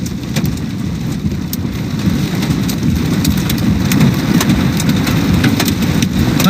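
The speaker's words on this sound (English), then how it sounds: "Oh, there comes more hail." Heavy rain and hail pelt a car during a severe thunderstorm in South Dakota or Minnesota, a dense, steady drumming on the body and glass with sharper ticks scattered throughout, loud and continuous without talk.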